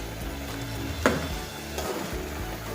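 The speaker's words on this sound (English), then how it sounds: "I'm getting the fish ready to be fried" Fish frying in hot oil in a pot for a Nigerian stew, a steady soft sizzle with a sharp clink of a utensil against the pot partway through.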